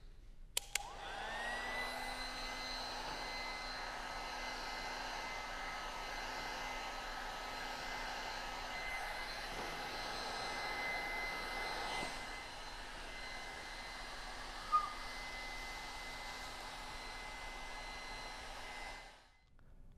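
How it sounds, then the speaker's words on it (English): A heat gun heating and stretching vinyl film printed with a grid pattern, blowing a steady whirring hum with a high motor whine that starts with a couple of clicks and cuts off at the end. "So let's heat the film and stretch it into the recess"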